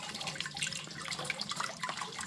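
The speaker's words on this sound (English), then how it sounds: "just take her over to your tap, turn on the water, and fill it up" Steady rushing of water running from a tap into a portable water filtration unit, a continuous splashing hiss with no voices.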